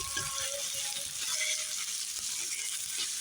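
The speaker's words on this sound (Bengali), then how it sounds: "আমি এই মাছটা ভাজা ভাজা করবো" A soft, constant sizzle of pangas fish frying in oil, fairly quiet and even throughout, with faint tonal sounds in the background.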